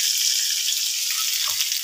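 Asafoetida dropped into hot oil sizzles as a steady, bright frying hiss, close and continuous without pause, with a faint clink of a utensil near the end.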